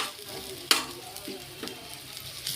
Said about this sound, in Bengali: সুন্দর করে ভেজে নিচ্ছি পেঁয়াজগুলো